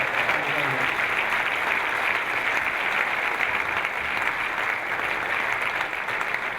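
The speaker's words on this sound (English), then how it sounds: "can we just have a huge round of applause to players and event management for pulling off another fantastic event" An audience at the Newcastle United Black and White Reunion midfielders event applauds the players and event management, a loud, dense, even round of clapping that runs unbroken for the full stretch.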